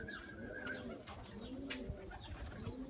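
A very old pigeon coos softly in repeated low throaty phrases, close by, with faint background chirps and no clear talking.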